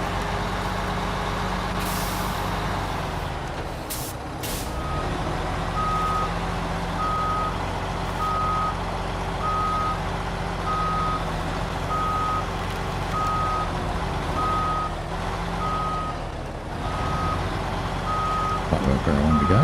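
A truck in the SnowRunner game backs up to hook a trailer, a steady evenly spaced reversing beep sounding over a continuous low engine drone, with a couple of sharp air-brake hisses early on.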